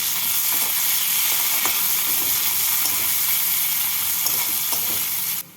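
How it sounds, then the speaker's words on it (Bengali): Chopped onions fry in hot oil in a pan for a Bengali shol fish curry, with a loud, continuous close sizzle and occasional soft stirring scrapes, then a sudden cut-off at the end. "এবার এর মধ্যে কুচনো পেঁয়াজগুলো দিয়ে দেব পেঁয়াজগুলোকে দিয়ে লাল করে ভেজে নিচ্ছি"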